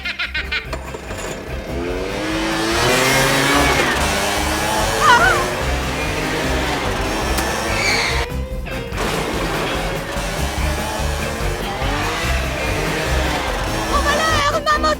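A cartoon motorcycle revs and crashes in a loud, dense burst of engine noise and smashing impacts that runs for the full stretch, with an animated scene's effects and voices layered over it.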